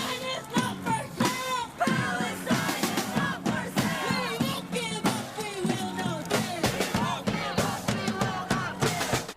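Crowd of about 200 pro-Palestine protesters at a university walkout chanting and shouting together outdoors, loud rhythmic voices rising and falling continuously.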